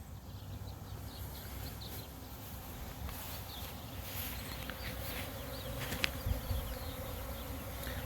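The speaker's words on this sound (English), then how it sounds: "The bees are out exploring and coming back" Bees hum and buzz continuously at close range around a hive entrance, a busy swarm of wings coming and going, with faint outdoor background and no talking.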